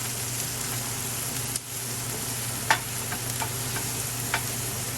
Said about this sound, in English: Now we're just going to saute this until it's translucent